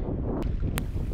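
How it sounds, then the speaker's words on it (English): Strong wind buffeting on a Scottish Munro walk up Stuchd an Lochain, a loud low roar against the microphone, constant for the brief moment with no voices. "it was a very windy day"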